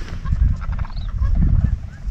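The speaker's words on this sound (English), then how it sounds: "I hear geese." Geese honk repeatedly from a distance in North Dakota, a scattered chorus of calls over a low rumbling background.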